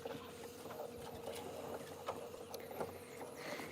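Outdoors at a gold trommel, a flush of water runs through the machine as a steady, close wash of noise that holds for several seconds with only small rises. No voices are heard.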